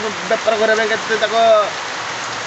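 Heavy rain pours steadily, a dense hiss running the whole time while a voice speaks over it in the foreground.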